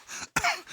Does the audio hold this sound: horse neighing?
no